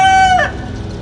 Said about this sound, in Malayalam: കോഴി അല്പം നേരത്തെ കൂവിയല്ലേ?